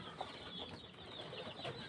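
A young joper chick sick with CRD, swollen-eyed and runny-nosed, clucks and peeps faintly while held in a hand, a soft continuous sound under steady background noise.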